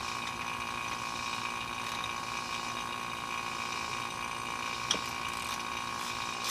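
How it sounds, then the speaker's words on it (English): Ratchet working the belt tensioner nut on an old barn-find Volvo engine, heard as a steady mechanical texture with a single sharper click near the end, fairly close and moderately quiet. "We gotta loosen that nut right there"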